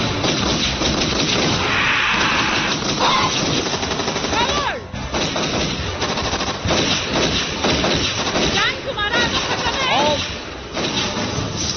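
Rapid automatic gunfire bursts from a Hollywood horror film dubbed in Hindi rattle almost continuously, loud and dense, mixed with shouted dialogue and other movie sound effects.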